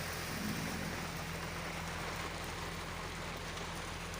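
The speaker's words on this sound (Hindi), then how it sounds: "तेज़ बारिश हो रही है और मौसम बहुत खुशगवार भी है" Steady heavy rain pours down in a dense, continuous hiss, drumming evenly on a surface with a faint low hum underneath.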